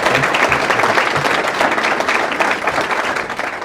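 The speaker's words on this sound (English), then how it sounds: "please join me in another round of applause for all of our scholars" An audience applauds scholars at a college event on classical education, with dense, sustained clapping from a sizeable crowd holding steady throughout.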